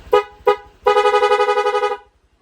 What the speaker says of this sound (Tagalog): yung rapid horn natin